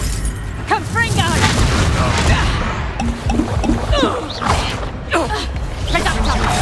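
Confringo fire spells in the Hogwarts Legacy video game burst as several loud, crackling impact blasts mixed into busy battle noise, with a player's voice talking over the action.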